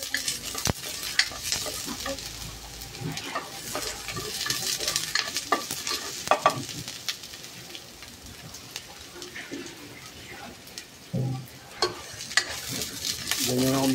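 Onions sauté and sizzle in a little oil for chicken afritada, a steady frying hiss with stirring and scraping throughout, and a voice talks briefly over it.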